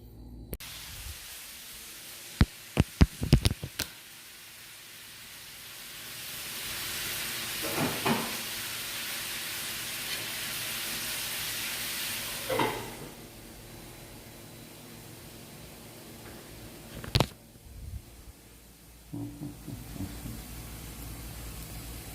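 Tofu and broccoli frying under a lid in a pan, a steady broad sizzling hiss that swells and fades, broken by a few sharp clicks and clatters near the start and occasional knocks.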